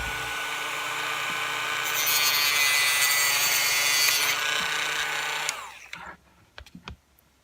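A power tool cuts through a plastic toy dragon sword, a loud rasping, whining saw sound that swells midway, stops after about five and a half seconds, then gives way to a few light clicks and taps.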